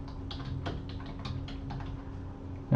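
Keys clatter on a computer keyboard in a quick, uneven run of close clicks, with no voices, ending in a louder thump.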